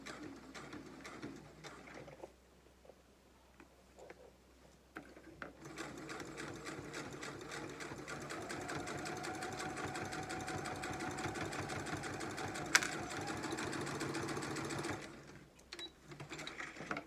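A sewing machine stitches steadily, with its rapid mechanical clatter building after a few seconds of quieter handling, then running continuously for about ten seconds before stopping.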